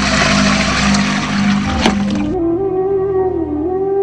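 Water runs steadily from a village drinking-water tank as a widow fills her vessel, a broad rushing flow that suddenly stops, leaving a quieter trickle and a fading tone.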